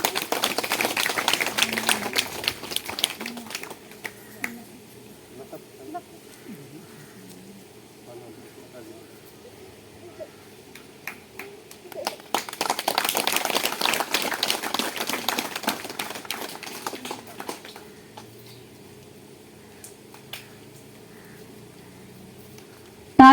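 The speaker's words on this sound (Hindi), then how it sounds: "ताली बजाएंगे।" Hands clap in rhythm at a village church feast for Saint Monica, with two long bursts of crowded clapping separated by quieter stretches of scattered taps and murmuring voices.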